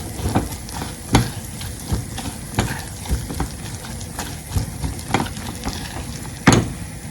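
Onions frying in a pan with chickpea powder, a steady crackling sizzle broken by regular sharp scraping stirs about once a second, close and fairly loud with no talking.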